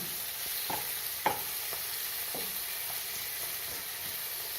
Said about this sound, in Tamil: தக்காளியும் நல்லா வதங்கணும்